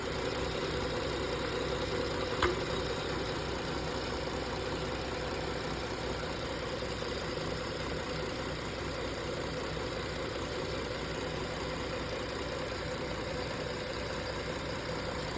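Steady, low engine hum of a 2016 Ford Explorer 3.5 idling in park, even and continuous with a faint mechanical drone and no voices.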